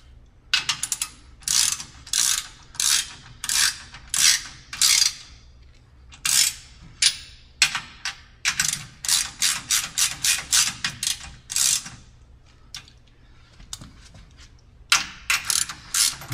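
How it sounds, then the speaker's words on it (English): Ratchet wrench tightening 9/16 bolts on pillow block bearings of a StairMaster SM916 StepMill, giving loud, close bursts of rapid clicking in repeated strokes with short pauses between them. "you need to tighten back your 9/16 bolts on your pillow block bearings"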